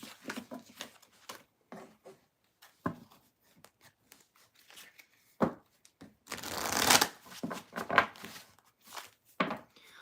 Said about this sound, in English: I'm going to shuffle and move on to lay water signs